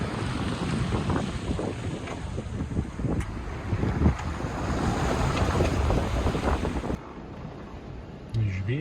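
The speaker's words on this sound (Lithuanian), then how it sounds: "Bet vėjo jau dabar yra, ne?" Strong steady wind roars across the microphone aboard a sailing boat at sea, with water rushing alongside; the noise drops abruptly near the end, leaving quieter wind and a brief voice.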